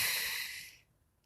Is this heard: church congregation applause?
no